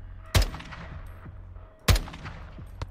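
Two loud, close sniper rifle shots about one and a half seconds apart, each with a sharp crack and a short rumbling tail, in the campaign of the video game Call of Duty: Modern Warfare 2.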